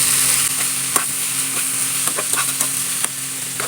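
Mackerel roast being gently stirred in a sizzling pan, a continuous frying hiss broken by scattered scrapes and clicks of the utensil against the pan.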